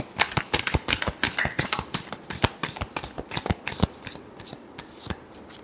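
Tarot cards are shuffled by hand close up, a steady stream of crisp riffling snaps and flutters that continues for several seconds with no voice.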